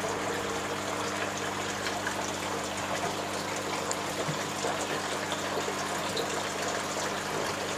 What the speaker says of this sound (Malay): Yang ini bunyi jatuhan air